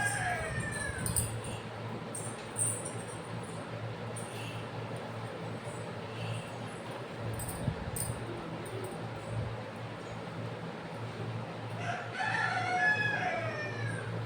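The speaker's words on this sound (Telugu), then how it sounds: "కోడి చూడండి ఎంత చక్కగా కుక్కరు కోడి కూస్తుందో" A rooster crows a few times at a distance over a steady low hum and outdoor background noise, with another crow near the end.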